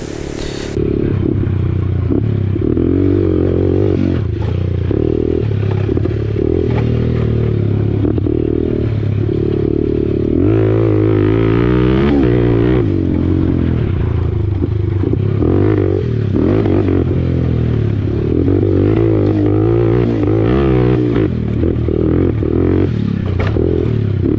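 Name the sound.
motocross motorcycle engine at full throttle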